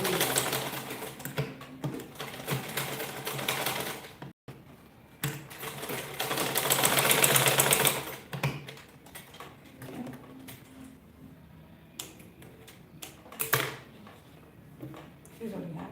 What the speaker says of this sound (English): so you can see that I'm just sewing, I'm not ironing